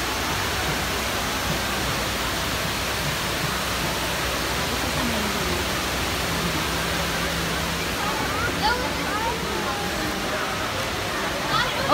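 A very tall indoor man-made waterfall in the Dubai Mall, UAE, roars as a dense, continuous wash of falling water, steady and loud throughout.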